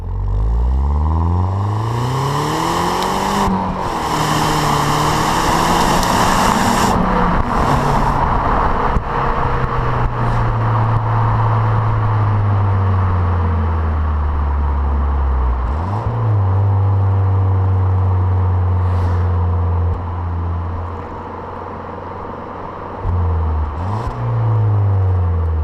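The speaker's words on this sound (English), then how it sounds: "And there's the turbo, and away we go." A Citroen DS3 Racing Cabrio's turbocharged engine pulls hard from inside the car, its loud drone rising in pitch through repeated sweeps with brief dips at gear changes, accompanied by road and wind noise and no talking.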